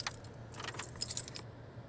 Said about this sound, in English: He just took the keys out of the car, and it is still on.